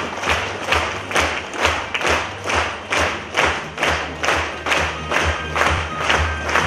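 Rhythmic applause honouring a veteran of the Afghanistan war at a civic ceremony in Lozova, a crowd clapping in unison with steady, evenly spaced swells, loud and close.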